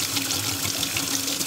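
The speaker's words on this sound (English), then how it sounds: "Now I'm going to rinse these off in the sink behind me" Cold water runs steadily from a sink tap while cucumber and watermelon rind are rinsed, a continuous close splashing rush with no talk.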